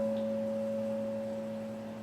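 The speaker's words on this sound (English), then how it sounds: "I'm going to ring my crystal ball" A crystal singing bowl rings with a steady, pure sustained tone during a yoga nidra session. It holds evenly and fades only slightly over two seconds, with no talk.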